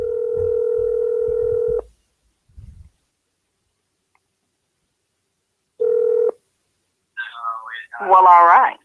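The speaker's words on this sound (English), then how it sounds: "Okay, so I'm going to call Takora's phone" A phone call being placed: a steady dial tone with clicks beneath it, a pause, a short second tone burst, then a voice speaking over the line.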